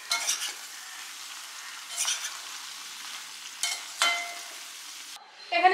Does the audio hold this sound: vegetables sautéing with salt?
yes